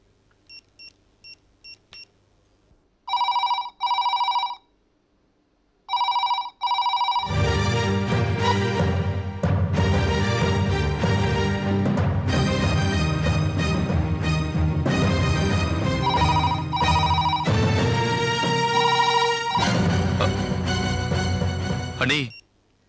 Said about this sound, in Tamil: போன் பெல் அடிக்குது, ஆனா யாரும் போன் எடுக்க மாட்டேங்கிறாங்க